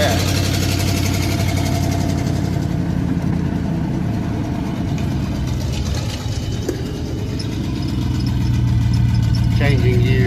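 An old car engine drones loud and steady while driving, with a slight dip in revs midway as gears change before the engine picks back up. Someone talks over the engine noise.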